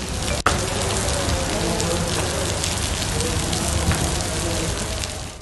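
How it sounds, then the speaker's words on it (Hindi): Steady rain patters densely on a surface, a continuous hiss with a sharp click near the start. "जिला उमरकोट में बारिश हुई"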